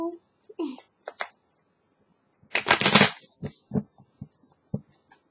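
Scattered soft clicks and taps, then a short rapid riffle of tarot cards being shuffled, followed by a few light handling noises.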